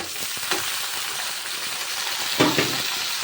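Long-sliced onions sauté in a pan for masala dosa filling, a steady close sizzle broken by a couple of brief scraping stirs.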